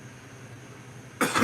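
A single short cough bursts out near the end after quiet room tone, close and fairly loud.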